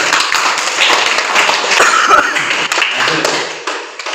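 Students in an Islamic studies class clap for a classmate about to present, with a burst of mixed clapping and some taps and voices mingled in the room.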